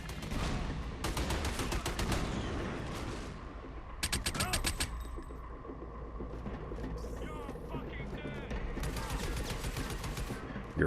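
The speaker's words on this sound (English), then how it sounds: "a heavy armor guy on the other side of the door firing rockets at us" Rockets and gunfire from a heavy armor enemy firing through a door on an aircraft carrier level of the Army of Two video game, with repeated bursts of rapid shots and loud blasts among continuous battle noise.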